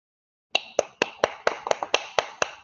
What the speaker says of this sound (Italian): Gli applausi di ferita.